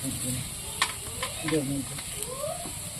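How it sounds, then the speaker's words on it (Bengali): Snake gourd and its seeds are stirred in a frying pan over a soft sizzle, with scraping strokes of the spatula and a faint voice underneath. "এইটা দুটোকে মিশিয়ে ভালো করে ভেজে নিতে হবে"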